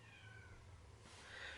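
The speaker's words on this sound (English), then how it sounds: "Sorry, my cat is meowing." A pet cat meows at a closed door, one drawn-out meow rising toward the end, faint and in a quiet room with no one talking.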